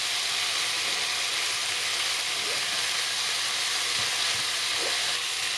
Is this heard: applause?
no